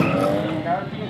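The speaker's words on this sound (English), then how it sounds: "V8 power lighting up those rear wheels." A V8 Ford Mustang at a drag race spins its rear wheels, a loud, close roar with squealing tires over about a second, with a commentator talking over it.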